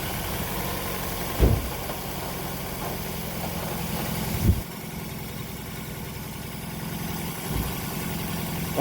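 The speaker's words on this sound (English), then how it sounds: "the misfiring is not registering here, and the engine is running" A Toyota Estima Hybrid with a 2AZ-FXE engine idles with a misfire and one spark plug removed, a steady nearby engine drone broken by three heavy low thumps spaced a few seconds apart.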